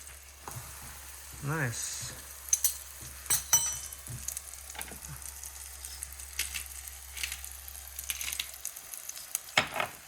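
Pieces of giant puffball mushroom fry in a pan with a faint steady sizzle, broken by scattered clinks and scrapes of stirring, while people talk quietly over it.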